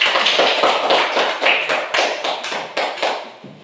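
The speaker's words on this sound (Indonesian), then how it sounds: "Mari kita berikan tepuk tangan untuk kelompok 1." A classroom of students claps for a group that has just presented, a dense patter of many hands that starts strong and gradually thins out near the end, with no talking.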